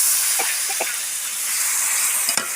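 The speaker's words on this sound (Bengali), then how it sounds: "এই মশলা ধোয়ার জলটা আমি দিয়ে দেবো।" Water used to rinse spices, with turmeric just added, is poured into a hot pan of jackfruit curry, giving a loud steady hiss with a few faint clinks, close and without talk.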